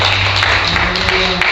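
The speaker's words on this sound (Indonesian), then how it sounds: "kasih tepuk tangan yang terbaik buat Tuhan" Applause from a church congregation during an Independence Day sermon, a dense steady wash of clapping that fills the moment, with a low sustained tone underneath.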